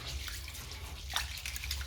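Rice for chicken biryani is swished and rinsed in water, giving faint continuous sloshing and trickling with a few small splashes, quiet and close, without speech.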